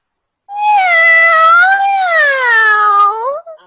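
A person's voice imitates a happy meowing cat, one long loud rising-and-falling meow with a bright squeaky tone, close and clear, ending in a short trailing squeak.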